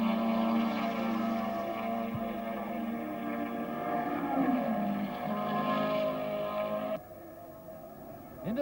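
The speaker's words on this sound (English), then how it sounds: "You can see the Lotus virtually leap ahead as it goes out under the 330-odd brake horsepower as it goes away." A 1968 Lotus racing car engine of about 330 brake horsepower roars steadily in the Tasman Series at Surfers Paradise, a loud sustained drone that climbs in pitch as the car accelerates away, then drops off abruptly near the end.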